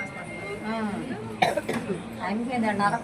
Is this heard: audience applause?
no